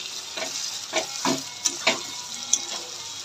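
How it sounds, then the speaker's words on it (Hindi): Pota kaleji with turmeric fries in a pan, a soft continuous sizzle broken by about six rhythmic stirring scrapes of a spoon, close and fairly quiet, with no speech. "2 मिनट इसको भी भूनना है"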